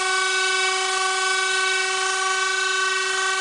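An ACE-O-CLUB 5 pulse motor, driven by an IRF350 MOSFET, spins at roughly 20,000 RPM and gives a steady, loud, unbroken high whine with strong ringing overtones that holds constant throughout.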